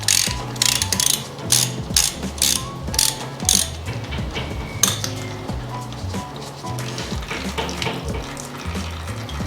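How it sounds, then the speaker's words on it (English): A ratchet fitted with a 24mm socket loosens the drain plug on an Aprilia RS4 125 motorcycle, giving rapid repeated clicking in close bursts over a steady background, with no talking. "So there's our drain plug here. And we're going to be using a 24mm socket."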